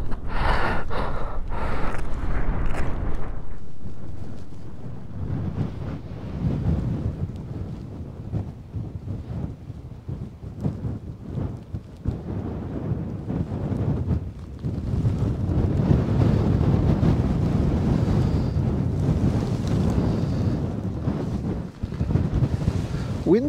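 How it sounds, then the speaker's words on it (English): Strong wind gusts buffet the microphone across a wild, open Norwegian landscape during a motorcycle trip on a Husqvarna Norden 901, roaring loudly and continuously with brief dips, with faint bits of voice underneath. "Very windy."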